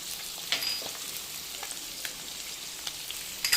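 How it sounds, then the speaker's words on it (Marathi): Diced potatoes fry with spices and rock salt in a pan, giving a steady close sizzle with soft crackles and a few light stirring taps. No voices are heard. "आता मस्त फ्राय करून घेऊयात"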